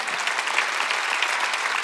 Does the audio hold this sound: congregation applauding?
yes